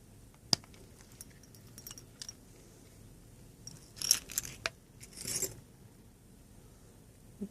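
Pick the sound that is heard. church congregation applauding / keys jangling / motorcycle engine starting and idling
keys jangling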